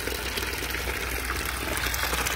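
Water pours steadily out of an aquaponics bio filter, a continuous rushing splash with a faint pump-like hum underneath.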